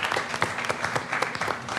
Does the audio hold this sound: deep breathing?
no